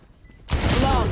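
Gunfire from the tactical shooter game Valorant during a tournament match, a sudden loud burst of rapid shots cutting in about halfway through after near silence, dense and sustained to the end.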